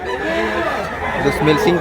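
A rooster crows loudly at close range among chickens offered to buyers in Tabunok, Talisay, Cebu, with clucking and a murmur of voices mixed underneath.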